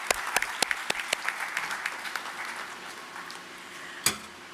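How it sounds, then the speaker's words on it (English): Audience applause at the Shodhotsav 2025 research and innovation inauguration, a steady wash of clapping from a crowd with a few sharp claps standing out, thinning slightly toward the end. "A big round of applause for all the team members."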